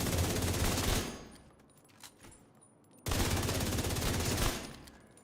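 A video game weapon fires two long, loud bursts of rapid automatic shots, separated by a quieter pause that holds a couple of faint single pops.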